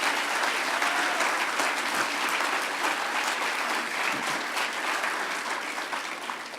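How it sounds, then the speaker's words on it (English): A large audience at a hacker conference's closing ceremony gives a sustained round of applause, a dense, even wash of clapping that tapers slightly toward the end. "So another round of applause for those guys and all of you."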